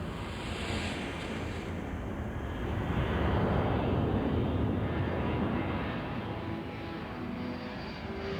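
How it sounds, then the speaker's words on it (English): A C-141 military transport aircraft lifts off from Thule Air Force Base, its broad, steady engine roar holding loud and continuous, swelling slightly mid-way, with no voices over it. "A C-141 lifts off from Thule Air Force Base."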